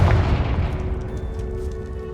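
The Confringo blasting spell explodes with a single sharp, heavy boom in the video game Hogwarts Legacy, and the rumble quickly fades into a lingering tail.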